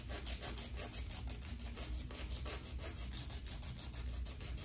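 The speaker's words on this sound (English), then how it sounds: "While she's in this position, I will use a Maca Art nail file." A 100-180 grit Maca Art nail file rasps against a Shih Tzu Bichon mix's nails in quick, even back-and-forth strokes, close up and steady throughout.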